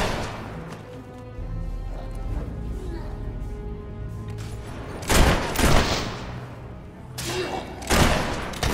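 Gunfire in the fantasy action game Fable 3, with sharp broadband shots clustered in two bursts near the end. They stand out loudly over a low, steady musical and ambient bed.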